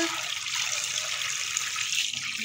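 Water runs steadily from a kitchen tap while waiting for hot water during greasy kitchen cleaning, a constant close hiss and splash into the sink with no talk over it.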